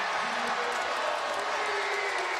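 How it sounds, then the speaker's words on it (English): Packed college basketball arena crowd at a North Carolina versus Virginia Tech game, cheering and applauding in a continuous loud roar of clapping and voices that holds steady throughout. "the crowd loves it"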